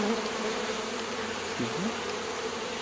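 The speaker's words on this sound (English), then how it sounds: "these bees resonate at a frequency that makes my ear itch" Honeybees buzz in a thick, continuous drone close to the mic, steady and loud throughout, with a faint higher whine above.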